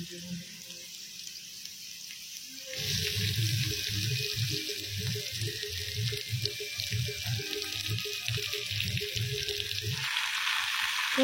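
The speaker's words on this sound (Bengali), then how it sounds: "পটল ভাজার পরে হচ্ছে চিচিঙ্গা ভাজা" Snake gourd frying in a pan in a village kitchen, a steady crackling sizzle that jumps louder after a quiet start and runs on with rhythmic low thuds, like stirring, under a broad hiss.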